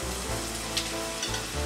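Chicken pieces frying in a pan give a steady close sizzle, with a brief shuffle and scrape as they are turned over; no voices.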